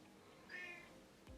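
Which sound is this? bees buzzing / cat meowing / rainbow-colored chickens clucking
cat meowing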